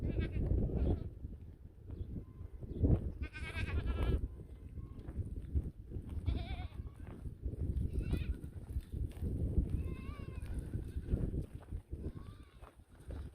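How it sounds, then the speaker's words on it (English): Goats bleat repeatedly while being led across a pasture to new grazing, several calls near and far among rustling footsteps and faint human voices. "Come on, goats."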